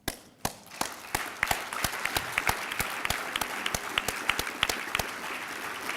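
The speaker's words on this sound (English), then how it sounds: "And so let's applaud us." Applause from the audience at the UNA-USA annual meeting: clapping begins with a few scattered claps and quickly swells into dense, steady applause that continues to the end.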